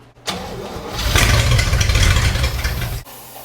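An abandoned 1961 Cadillac Deville project car's engine cranking and catching, a loud rough rumble building after a brief starter whir and then holding steady for a few seconds before cutting back, close by with no talk.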